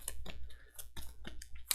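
A card is shuffled into the AI deck of the Aeon Trespass Odyssey board game, making a quick run of close, light clicks and card flicks.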